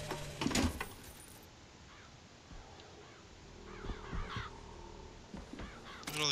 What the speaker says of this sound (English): Look at all these crows.